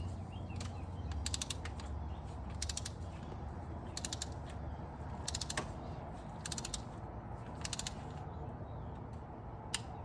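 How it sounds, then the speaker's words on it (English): Ratchet and torque wrench tightening a spark plug on a 2011 Honda Element, with sharp clicking bursts repeating about every second and a half over a steady low mechanical hum. "Heard that click? Torqued. 13 foot-pounds. Do the next one."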